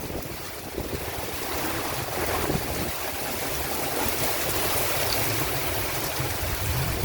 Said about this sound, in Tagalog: Napakalakas na po ng ulan.